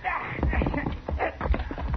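Horse hooves clip-clop in a radio drama Western, a busy, close run of irregular thuds from several hooves heard together with voices speaking.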